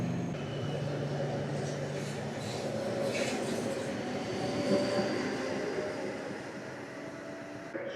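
Inside a moving passenger train in Poland travelling from Łódź toward Wrocław and Kłodzko, a low continuous rumble of rails and carriage fills the space, with faint voices in the background.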